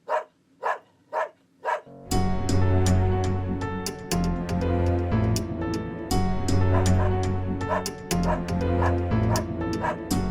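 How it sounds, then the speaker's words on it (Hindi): Four sharp, close dog barks in quick succession, then loud music with a beat that plays on, with yips still cutting through it. "ये तो ब्रूनो की भौंकने की आवाज लगती है"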